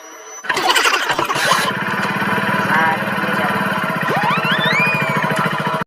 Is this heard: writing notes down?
no